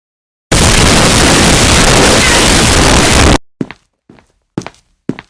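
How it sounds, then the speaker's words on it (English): Cartoon explosion effect as a vending machine is destroyed: a sudden, very loud, sustained burst of roaring noise that cuts off after about three seconds, followed by several short, sharp thuds. "now it's time for me to destroy the vending machine."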